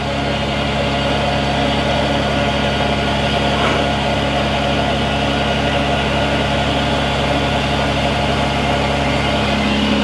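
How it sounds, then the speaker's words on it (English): A 2008 Freightliner Business Class M2 106 crane truck runs its air compressor to build air pressure, a loud, steady engine drone with a low rhythmic chugging throb that holds constant throughout. "Swap it over to the compressor. Let y'all watch it build a little air."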